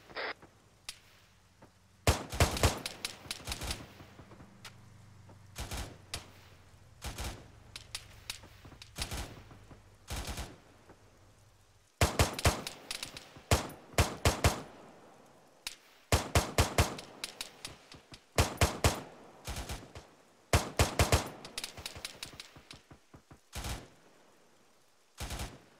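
Rapid bursts of automatic gunfire and single shots from an ArmA 3 firefight crack repeatedly at close range, in dense clusters separated by brief pauses, with a low engine-like drone underneath early on.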